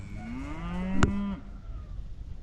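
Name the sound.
cows mooing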